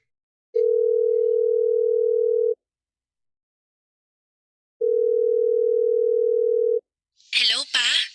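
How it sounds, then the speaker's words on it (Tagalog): Two long steady dial tones on a cellphone call, each lasting about two seconds with a pause between, followed by a voice answering the phone. "Tawagan ko muna sila doon ngayon"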